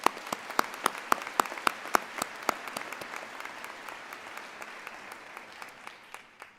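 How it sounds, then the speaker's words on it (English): Applause at a college commencement ceremony, sharp distinct claps from a modest number of people, crisp at first then gradually tapering and becoming more sparse and softer. "Let's give her another round of applause"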